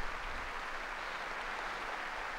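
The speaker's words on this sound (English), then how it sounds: "Pope Francis is coming into the hall, as our radio listeners will know with that applause" Steady, dense applause fills a large audience hall as Pope Francis enters for a general audience, an even roar of many hands without pause.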